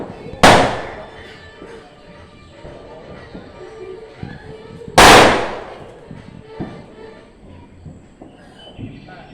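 Two loud firecracker bangs several seconds apart during Vishu festivities, each a sharp crack with a short echoing tail, over a quiet outdoor background.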